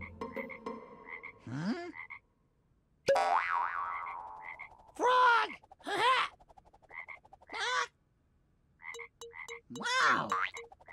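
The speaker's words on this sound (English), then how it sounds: "Frog!" A frog croaks in several separate bursts, clear, close and loud, with short silent gaps between the calls.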